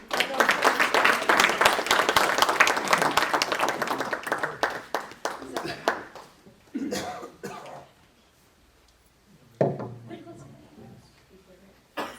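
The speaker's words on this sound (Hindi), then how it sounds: "मैं चाहूंगी तालियों की गड़गड़ाहट और होनी चाहिए।" Applause from an audience at a Hindi poetry gathering, dense and sustained for several seconds before thinning into scattered claps, with a brief fresh burst near the end; voices are audible in the gaps.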